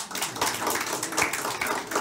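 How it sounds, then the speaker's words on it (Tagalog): A church congregation applauds during a sermon, a dense run of handclaps filling the whole stretch at steady loudness with no pause. "O, palakpak naman dyan."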